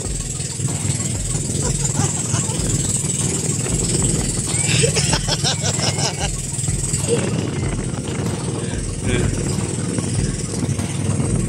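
Engine of a large wooden fishing boat running steadily at close range, a continuous low droning rumble with people talking and shouting over it throughout.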